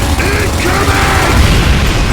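A mortar round strikes during combat in Gears of War 2, a loud, dense, booming blast rolling under surrounding battlefield noise and gunfire.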